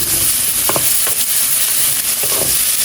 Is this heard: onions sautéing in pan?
yes